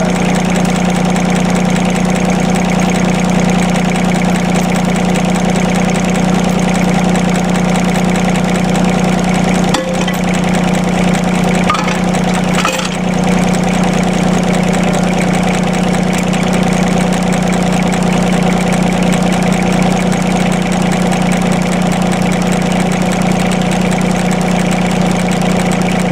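John Deere tractor engine running steady and loud close by while the backhoe is moved, a constant droning rumble with a brief clunk partway through and no voices.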